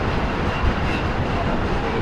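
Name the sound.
Mohananda passenger train running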